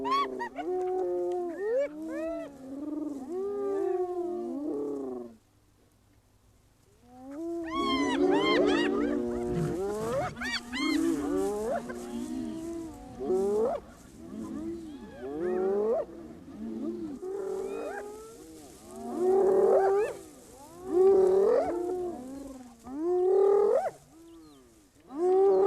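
Lionesses roar and growl over a carcass in the wild, with loud, overlapping bursts of deep roaring and snarling, a short lull, then repeated close calls from several animals.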